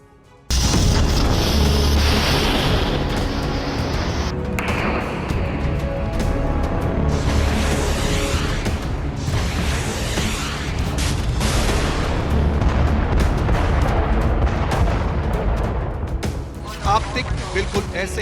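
A dense, continuous barrage of loud booming explosions and artillery fire with heavy low rumble, punctuated by sharper blasts throughout, dropping out briefly near the end.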